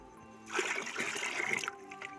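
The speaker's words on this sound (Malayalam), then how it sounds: "ഒരു പാത്രം കൂടെ ഒഴിച്ചു കൊടുക്കാം" Water splashes and trickles steadily for a couple of seconds onto the base of a green chilli plant, close by, after a brief quiet start.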